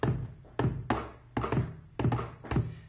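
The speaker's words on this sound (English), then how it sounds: "I made something really electronic that I played on a drum pad" Electronic drum hits played on a drum pad, six or so punchy, low thumping strikes in a loose rhythm, close and distinct, with no talking.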